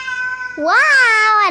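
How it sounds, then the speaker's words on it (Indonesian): A single drawn-out cat meow, loud and close, rising then gently falling, following a brief steady tone at the start. "itu suara kucing aku lagi"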